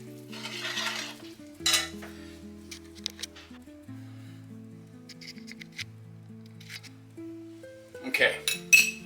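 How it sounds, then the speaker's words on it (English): A creamy homemade ricotta mixture is stirred in a pot with a spoon, giving scraping swishes and a few clinks of metal, while a steady tonal hum runs underneath and sharper knocks come near the end. "just gently stir this around until it breaks back down into a nice creamy form"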